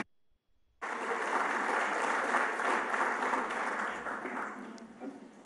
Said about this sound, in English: please give me a rousing round of applause for the Minister of Foreign Affairs and Regional Integration, Honourable Shirley Ayorkor Botchwey